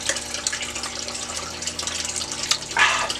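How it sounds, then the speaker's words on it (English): A turtle tank's water filter runs indoors with a steady trickling, splashing flow. The sound is fairly faint and constant, with a brief louder splash near the end. "I know you can hear my turtle filter,"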